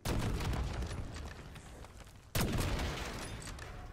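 Rocket explosions in the Black Ops 6 Zombies video game: two loud, booming blasts about two seconds apart, each trailing off into a dense, crackling rumble.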